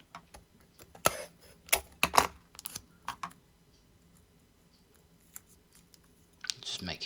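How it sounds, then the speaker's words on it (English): Masking tape is pulled and pressed onto a 1:12 Tamiya Honda CBR1000RR-R Fireblade model engine block, giving close sticky crackles and sharp tearing clicks in bursts, with quiet pauses between and a soft voice at the end. "It's just getting the tape on there now."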